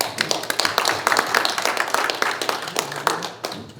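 An audience at a Yonsei University prayer breakfast clapping to welcome a speaker, a brisk, fairly close burst of many hands that thins out toward the end.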